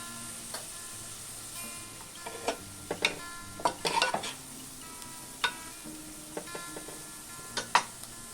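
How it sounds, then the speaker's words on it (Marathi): Onion with a pinch of turmeric and salt softening in a pan for padval birda bhaji, giving a low steady sizzle broken by scattered scraping stirs and light utensil taps against the metal, close and fairly quiet. "थोडं मीठ घालून आपण कांदा कोमवून घेऊया।"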